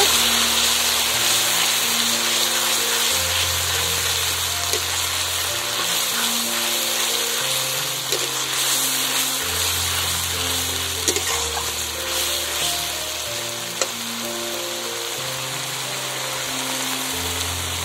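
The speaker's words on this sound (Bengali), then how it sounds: "এবারে আমি এর মধ্যে দিয়ে দেব শাক বাটাটা, দিয়ে নাড়াচাড়া করে নেব।" Mashed veto shak greens paste fries in a pan with browned garlic, a steady close sizzle and crackle under soft stirring, while a low melodic music line runs throughout.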